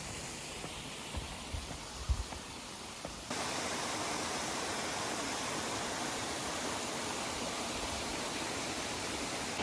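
The Muratel waterfall in the mountains rushing as a steady broadband roar, faint at first with a few soft knocks, then a sudden step up to a fuller, constant wash of water with no voices.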